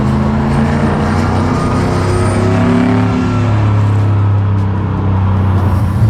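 Supercharged 600 hp 1957 Chevy V8 rumbling loud and close, with a deep, steady revving tone that rises and eases over several seconds, no talk.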